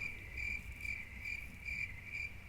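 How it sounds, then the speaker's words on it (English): Crickets chirp in a steady, evenly pulsing trill, about four bursts over a couple of seconds, heard alone against a soft constant hiss. "Insert crickets here."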